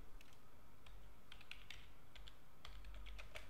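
Fingers type HTML code on a computer keyboard in quick, irregular bursts of soft clicks, close and fairly quiet. No one speaks.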